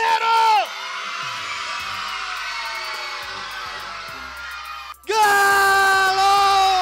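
A crowd of children yells and whoops in a loud sustained roar during a fan-contest cheering match at a Christmas visit, dipping briefly before a second loud burst of shouting.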